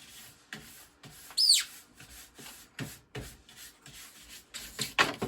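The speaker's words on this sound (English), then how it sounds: "And then just a soft nylon finish brush." A soft nylon finish brush scrubs a ski base in short, quiet, irregular strokes, with one sharper squeak among the faint rubbing.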